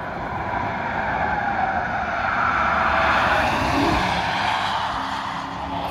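A Porsche Cayenne driven hard on the Nürburgring passes with a broad, steady roar that swells to a peak midway and then eases, heard from trackside with wind-like noise underneath.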